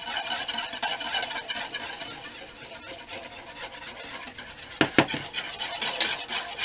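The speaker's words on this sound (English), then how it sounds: "Just keep whisking until it comes back up to a boil and the thickness you'd like." A whisk scrapes and clatters around a metal pot as cornstarch slurry is stirred into a thickening sauce, a busy, close rhythm of rapid strokes and clinks with a louder burst of scraping near the end.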